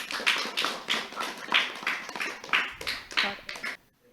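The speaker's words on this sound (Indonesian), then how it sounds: "Kita kasih tepuk tangan yuk untuk Ikhlas" A small school crowd at MTs DDI Sabang Tende claps for a student, the scattered applause coming in rhythmic bursts for about four seconds before stopping abruptly.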